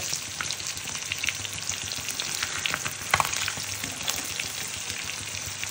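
Food frying in a pan on one side and then the other, an even, moderately loud sizzle with fine crackling close by and a sharp pop or stir near the middle, with no voices.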